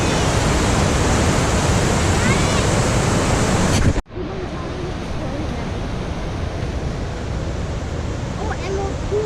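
Rushing water flowing into Emerald Pool on a Yosemite trail near Nevada Fall, a loud continuous roar that cuts abruptly midway and continues somewhat quieter, with faint voices in the background.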